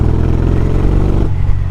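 Derestricted Triumph motorcycle engine running loud and close, a steady deep throbbing idle with a heavy low rumble that drops slightly in tone near the end.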